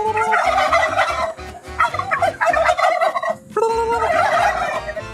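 Turkeys gobbling loudly at close range in rural Mexico, with repeated bursts of rapid warbling calls broken by short pauses.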